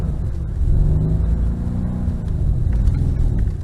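A Mercedes-Benz car accelerates on a test track, its engine rumbling loudly from inside the cabin as the pitch climbs in steady rising sweeps, with no voices over it.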